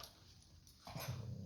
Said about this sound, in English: the dog just barked outside several times